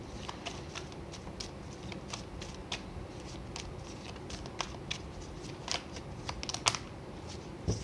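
Tarot cards are shuffled and drawn by hand, giving quiet crisp flicks and snaps at an irregular pace over a low background, with no talking.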